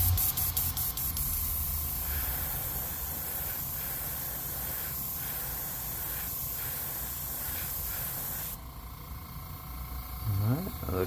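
An airbrush spraying paint onto an MB S crank hisses steadily and close, with a few short bursts of spitting at the start and talk heard alongside.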